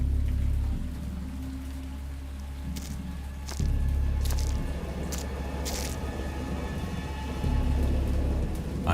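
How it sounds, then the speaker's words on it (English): A thunderstorm with rain pouring steadily onto surfaces, deep thunder rumbling underneath and a sharper thunderclap midway, sustained and fairly loud without any voices. "I have indistinct recollections of a great storm sometime after I reached the boat."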